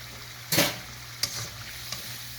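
Chicken being stirred with chili sauce and soy sauce in a hot pan, with a steady sizzle and one loud scrape followed by two softer ones, close and with no talking.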